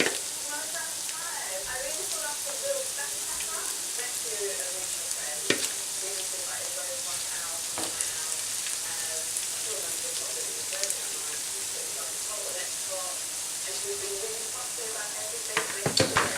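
Onion bhajis sizzle steadily in a shallow frying pan, a dense, crackling hiss like light rain that runs throughout, close and even, with occasional small pops and a faint clink near the end.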